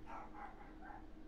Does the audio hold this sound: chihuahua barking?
yes